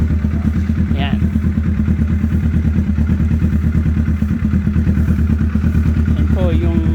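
Kawasaki Ninja 650 with an SC5 exhaust upgrade idles steadily close by, a low rhythmic engine throb running through, with people talking over it.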